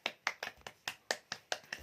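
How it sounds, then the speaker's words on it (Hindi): Hand claps at a family birthday gift unboxing, about nine sharp claps in a steady quick rhythm, close and clear with no talking over them. "ताली मारो फर्स्ट"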